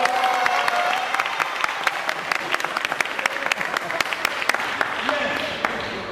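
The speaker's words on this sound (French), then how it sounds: "On l'applaudit." Steady applause from a crowd at the presidential palace of Côte d'Ivoire, dense and sustained throughout, with scattered sharper claps standing out.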